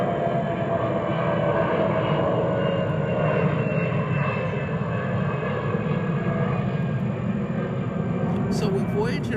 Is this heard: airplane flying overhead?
yes